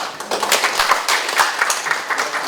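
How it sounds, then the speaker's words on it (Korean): Audience at a Korean joint meeting clapping for a regional road management director, a dense patter of many hands kept up steadily through the moment. "참석 박수 부탁드리겠습니다"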